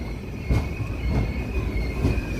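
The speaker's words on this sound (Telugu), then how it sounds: "డోన్ జంక్షన్ నుంచి అయితే మన ట్రైన్ బయలుదేరిపోయింది" A train pulls out of Dhone Junction from platform one, a steady loud rumble of wheels with a sustained high squeal running throughout and soft periodic thumps.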